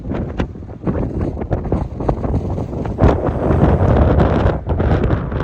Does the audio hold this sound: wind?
yes